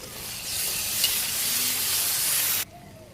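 Spices for a carp kalia curry fry in oil with a loud, dense, hissing sizzle that holds steady for a few seconds and then cuts off abruptly to near quiet.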